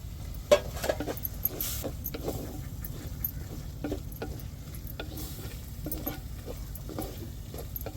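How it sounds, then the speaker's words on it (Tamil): Chopped chillies tossed into a pan while chicken is being cooked, giving a steady soft sizzle with repeated scraping and stirring clatters close by. "இப்போ கட் பண்ணி வச்சுருக்கிற மிளகாயையும் சேர்த்துருவோம்"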